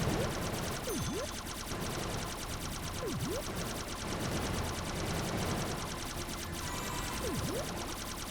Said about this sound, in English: we are now maneuvering over quite a large ship that's shooting out lasers from the top of it while still shooting these bugs